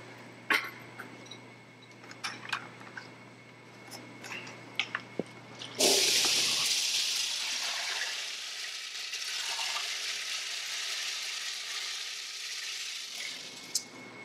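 Whole coffee beans poured in one continuous rush into a tilting hop infuser for a coffee-infused blonde ale, a dense rattling cascade lasting several seconds before tapering off, after scattered small clinks.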